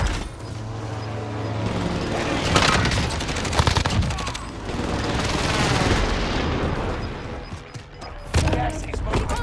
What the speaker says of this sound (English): Bring on the airstrike.